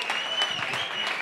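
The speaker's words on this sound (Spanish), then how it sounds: "un aplauso para todos los que organizan esto" A concert crowd at a Raptures show at 13 Monos claps in a brief, full burst of steady applause.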